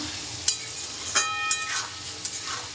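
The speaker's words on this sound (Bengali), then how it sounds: "এই আলু ভাজছি এখন" Potatoes frying in a home kitchen pan, a quiet steady sizzle broken by a few sharp utensil taps and stirring clinks, with no one talking.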